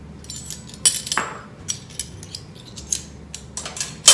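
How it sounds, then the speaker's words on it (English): A spoon scrapes and clinks against a cup or bowl while brown sugar is added to a whipped-coffee mixture: sharp, bright metallic taps and scrapes, close and distinct, irregular over a few seconds with quiet gaps, no talking. "Now I'm gonna add about a teaspoon of this mixture of brown sugar."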